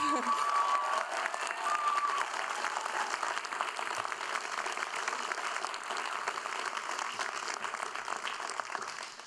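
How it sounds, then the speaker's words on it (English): A large commencement crowd applauds continuously with some cheering mixed in, a dense, even wash of clapping that holds at a fairly loud level throughout. "yeah, round of applause."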